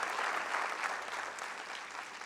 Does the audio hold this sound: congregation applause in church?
yes